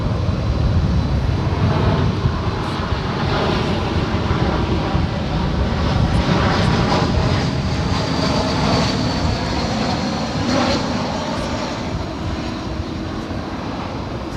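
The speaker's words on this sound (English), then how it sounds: "Next arrival, American Airlines Flight 2807 coming in from San Francisco." An American Airlines Airbus A321 jet arriving from San Francisco roars loud and close for a sustained stretch, its engine rumble and rising, shifting whine filling the whole span without talk.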